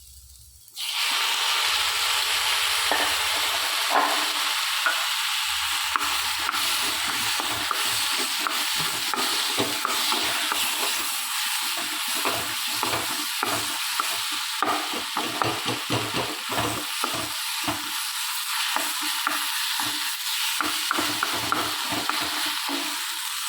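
Eggplant chutney ingredients with spice powders frying in coconut oil in a pan, loud continuous sizzling with frequent scraping and stirring strokes of a spoon, close up and with no talk.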